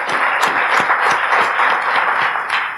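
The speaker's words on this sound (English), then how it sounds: "Let's give her another round of applause" Sustained audience applause from a seated crowd at a career talk, dense and steady clapping filling the whole stretch with scattered sharper claps, loud and close without speech.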